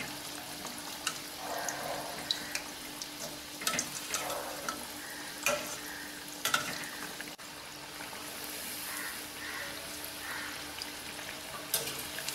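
Banana flower vadas sizzle steadily as they deep-fry in hot oil, with a constant crackling hiss and a few sharper pops and spatters, and no voices.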